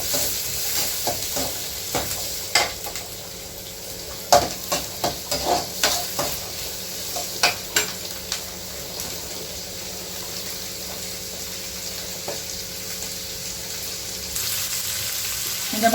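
Steady sizzling of onions frying in oil, with occasional stirring clinks and scrapes, close up and without talk.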